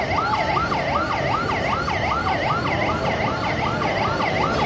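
Wailing emergency siren from a fire truck at a residential fire in Happyland, Barangay 105, Tondo, Manila, rising and falling steadily and loudly over a constant rumble of street noise.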